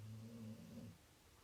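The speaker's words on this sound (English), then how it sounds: "I'm sorry if you guys can hear my dog snoring." A dog snores indoors with low, rumbling breaths. The sound is faint and close, with a longer drawn-out snore that fades out after about a second.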